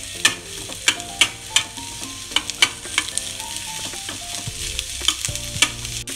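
Mutton keema browning in a spoonful of oil in a pan, with a steady sizzle and repeated sharp scrapes and clinks of a spoon stirring through it, close and fairly loud, no voices.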